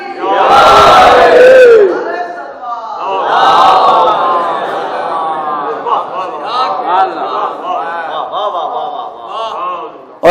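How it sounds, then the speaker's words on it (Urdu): A large congregation at a Shia majlis gathering loudly chanting salawat in unison, two big swelling bursts of massed voices followed by a lower, scattered murmur of the crowd. "صلوات محمد علیہ محمد."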